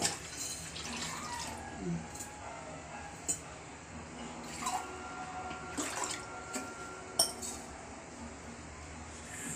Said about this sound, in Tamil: ஒரு 2 சொம்பு தண்ணி ஊற்றிக்கலாம்.